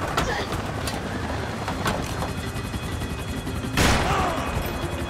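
Gunfire in the Max Payne 3 video game, rapid bursts of shots cracking over a busy, noisy backdrop, with one loud blast near the end standing out.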